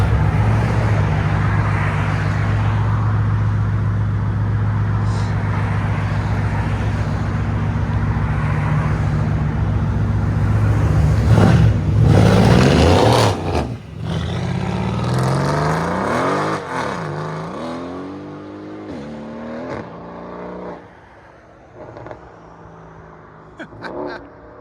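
A straight-piped Mercedes C63 S AMG with a 4.0-litre bi-turbo V8 tuned to 850 hp rumbles steadily, then revs hard with a loud pass around the middle and sharp gear changes before fading into the distance amid traffic.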